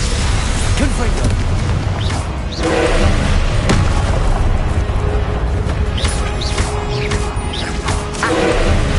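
Spell explosions in the Hogwarts Legacy video game make a dense, loud, continuous wash of booms, crashes and thuds that never lets up, with a voice shouting over the top.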